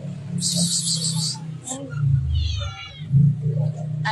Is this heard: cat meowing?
yes